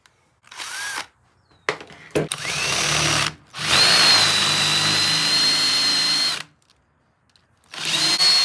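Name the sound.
power drill drilling through bolt head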